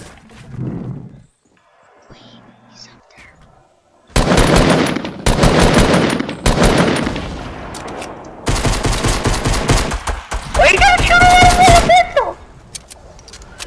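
Rapid gunfire rattles in Fortnite, several loud sustained bursts of automatic shots after a quiet start, ending in a final volley with a rising tonal effect.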